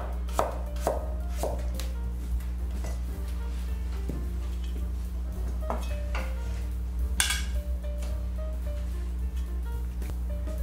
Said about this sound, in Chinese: 姜切片